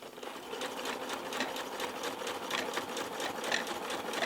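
A sewing machine stitching baby dungarees, running in a steady continuous whir with fast rhythmic needle pulses, fairly close and alone without talk.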